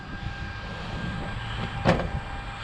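An Arrma Outcast 8S electric RC car with a stock chassis, driven outdoors at about three-quarter throttle, gives a steady rising whine under a broad rumble and peaks in a short sharp burst near the end. No one speaks.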